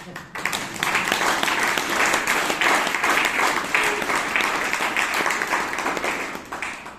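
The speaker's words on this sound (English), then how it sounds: "Let's recharge your brain with clap." Loud, full audience clapping at a Toastmasters club meeting in Bangalore, swelling in after a brief start and holding steady before tapering at the end.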